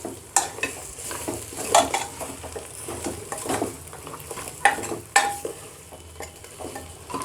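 Ginger garlic paste is stirred into mutton dum biryani masala: a low sizzle beneath repeated spoon scrapes and metallic clinks against the pot, close and uneven.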